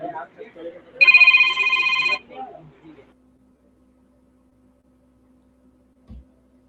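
A phone rings with an incoming call during an interview. A bright electronic ringtone sounds once for about a second, with people talking just before and after it.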